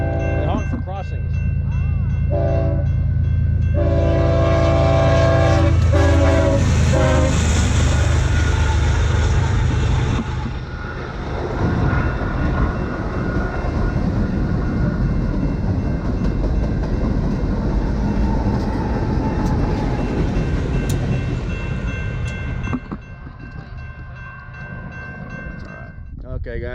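A train horn blares loudly at a crossing with a sustained chord over a heavy rumble of passing rail cars, then the horn drops away leaving clattering wheels.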